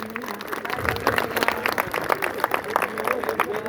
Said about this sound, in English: Please clap together.